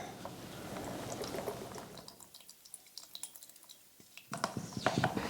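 White wine vinegar poured from a jar, a close liquid stream that fades midway, then returns with splashy trickles near the end, quiet with no talk.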